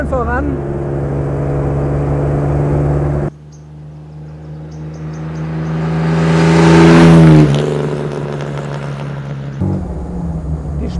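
A 1954 Jaguar XK 120 open two-seater's engine pulls while driving, a steady low drone that swells into a louder rising rev around the middle, then eases back, with a voice talking over parts of it.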